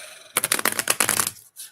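Tarot cards being shuffled: a quick, close burst of papery riffling clicks lasting about a second, followed by a soft final tap.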